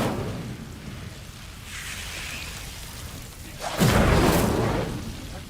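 A fire spell cast in the Hogwarts Legacy video game erupts as a sudden loud whooshing burst that flares and roars for over a second before fading, preceded by softer ambient rumble.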